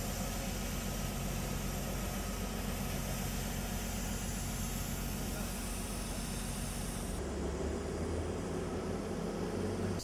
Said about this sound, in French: Donc ici on utilise des chargeuses sur pneus principalement qui sont des machines très mobiles.